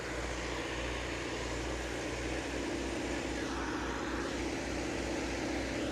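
A Millat 150 HP tractor with a high-low medium gearbox runs steadily in gear, giving a continuous, loud low-pitched engine drone with a broadband rush over it, close and without interruption, and no one speaking.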